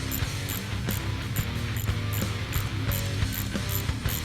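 An 8mm ratchet wrench tightening the coil terminal nuts on a 1965–1973 Mustang ignition coil, producing a rapid, regular clicking of the pawl in quick strokes, close and clear with no talking.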